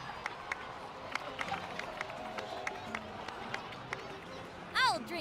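Scattered clapping from a crowd in the video game Genshin Impact, a steady patter of hand claps at moderate distance, ending with a brief rising chime-like game sound.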